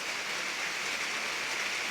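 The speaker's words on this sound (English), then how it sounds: "But I'm not going to, it's raining." Rain falls steadily outside, a soft, even hiss of drops with no voices.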